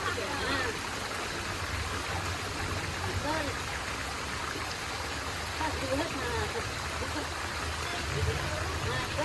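Continuous rushing splash of water being poured, with voices talking over it.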